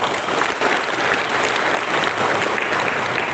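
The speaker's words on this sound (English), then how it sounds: "each and every participant of this program deserve a big round of applause" A convention hall crowd gives a big round of applause to the participants at a valedictory ceremony: dense, continuous clapping from many hands, loud and even throughout.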